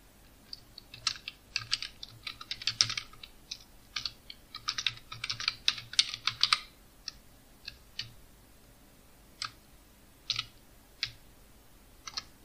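Typing on a computer keyboard in a document: bursts of quick, close key clicks, dense and rapid at first, then slowing to sparse, separate taps.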